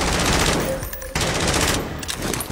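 Rapid bursts of video game gunfire crackle continuously, dense and loud, with a brief dip in the middle before the shooting resumes.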